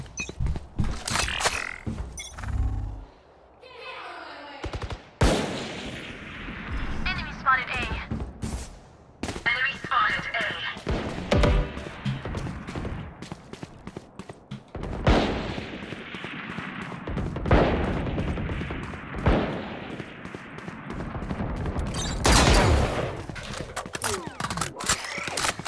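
Gunfire from Valorant during a professional esports match on a watch-party stream: repeated bursts and single shots come in uneven clusters amid game effects, with people talking over much of the action.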